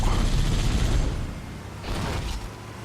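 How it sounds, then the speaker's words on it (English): Gunfire in the Halo game Final Flight campaign aimed at a pursuing Banshee, a dense burst of rapid shots rumbling loudly then easing, followed by a second shorter volley. "There's a banshee following us. Goddamn, shoot him down."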